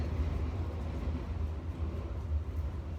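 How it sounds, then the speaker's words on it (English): A train rumbles past close to a home, a steady, loud low roar holding for the whole stretch with no talk over it. "So you're going to be hearing the train a lot in these videos"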